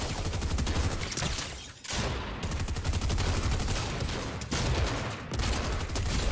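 Rapid bursts of gunfire in the video game Fortnite, dense repeated shots forming near-continuous volleys with two brief pauses, loud and close with no talk.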